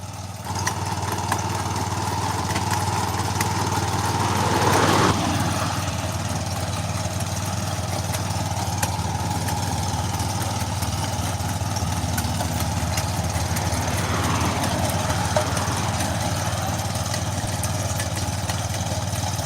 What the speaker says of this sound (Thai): นี่สังเกตที่ตัวรถนะคะ อันนี้เขา ขุดนะคะ แล้วก็เขาก็จะถอยหลังเองนะคะ ขุดขุดขุดแล้วก็ถอยหลังค่ะ